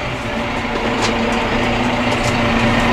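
A Massey Ferguson 5711 tractor fitted with a bale grab idles at low revs, a steady low engine drone with a faint hum and light clatter, continuous and close.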